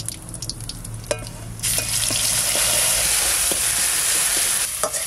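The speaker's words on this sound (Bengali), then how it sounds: "মশলাটা ভেজে নিলাম, একটু ভাজা ভাজা হয়ে গেছে।" Ground spice paste frying in a pan with dried red chilli, bay leaf and cumin for a fish and wild potato curry: a few clinks of stirring, then a loud, steady, close sizzle that holds to the end.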